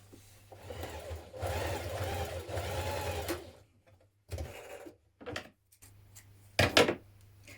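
A sewing machine stitches the side seams of front and back dungaree facings, a close, steady whirring run of about three seconds followed by a few short bursts and clicks.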